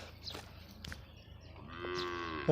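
A buffalo lets out a long, low, drawn-out moo that swells toward the end, with faint farmyard background noise and no talking.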